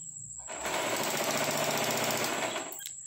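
An electric sewing machine runs in one steady burst of fast, even stitching through velvet fabric for an XL scrunchie, starting and stopping abruptly, loud and close with no voices.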